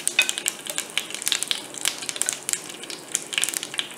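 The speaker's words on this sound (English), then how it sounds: "When the mustard seed starts to splutter" Mustard seeds pop and splutter in hot oil for a Gujarati dal, giving a dense run of sharp, crackling spits over a soft sizzle, close and fairly loud, with no talking.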